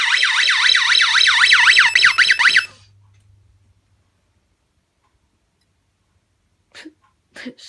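A Scantronic 9448+ alarm system siren goes off indoors with a loud, rapidly warbling electronic wail and a low hum beneath, cutting off abruptly after about two and a half seconds, followed by silence and faint brief voices.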